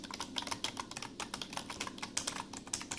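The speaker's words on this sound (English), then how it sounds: "this is just a 10 bucks Genius slimline keyboard" Fingers type quickly and continuously on a cheap Genius slimline plastic keyboard, giving a dense run of light, clacky keystrokes heard close up with no voice.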